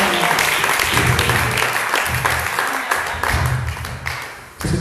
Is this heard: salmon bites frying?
no